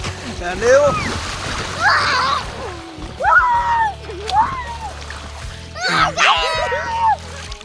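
Water splashes as someone dives and ducks in a pool fed by a motor pump on a hot day. Loud, excited shouting and talking sit on top of the sloshing throughout.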